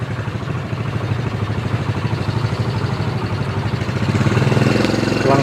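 A motorcycle engine idling close by, a steady rapid low putter that grows slightly louder and rougher toward the end, with no talk over it.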